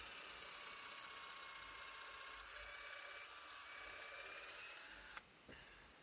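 A drill bores a pilot hole for a lag bolt through timber while a workshop shed is built. Its high motor whine holds steady for about five seconds, then cuts off abruptly.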